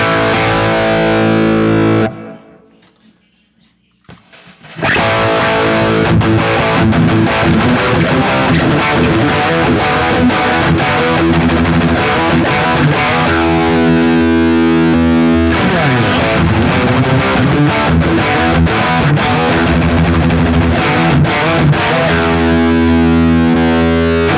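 Heavily distorted electric guitar plays loud, gritty chords and riffs through a dirty amp, with a brief pause near the start, then continuous crunchy playing.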